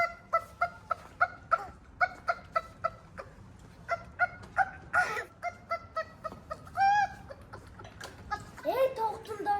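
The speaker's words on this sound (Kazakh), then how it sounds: "Ей, тауықтың дауысы шығып жатыр." A chicken clucks in a rapid series of short, sharp, evenly spaced calls that come close and clear, then grow more ragged toward the end.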